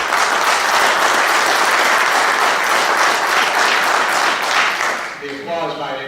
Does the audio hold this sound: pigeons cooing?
no